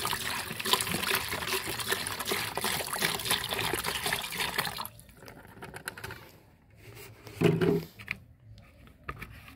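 Cow urine mixed with water, with vegetable peels soaking in it, poured out in a steady, close trickle that thins and stops, then a short splashing gush follows.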